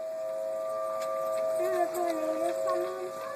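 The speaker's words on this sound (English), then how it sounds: "What do you think about these sirens?" A tornado warning siren holds a steady, droning wail throughout, with faint voices murmuring underneath in the background.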